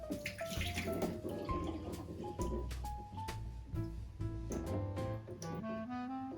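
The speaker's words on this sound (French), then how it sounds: "Après, nous allons les rincer, les vidanger." Water runs and splashes over sprouted seeds as they are rinsed and drained, a close, gurgling flow with shifting pitch and small sloshes throughout.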